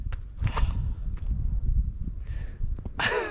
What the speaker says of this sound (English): I guess I get to hear the sound of my footsteps and breathing the whole 13 plus miles